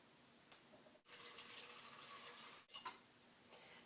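Water pours steadily from a tap into a pressure cooker to cover pinto beans, a continuous quiet rushing stream broken by two brief pauses, close by with no talking.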